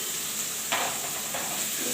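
Shrimp frying with mashed taro stems in a pan, a steady hiss of sizzling with two brief bursts of stirring or tossing.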